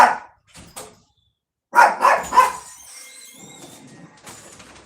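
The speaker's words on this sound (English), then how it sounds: "He thinks if you bark, you'll stop." A pet dog at home barking in short bursts: one early yelp, a pause, then three loud sharp barks in quick succession followed by quieter whines and noise.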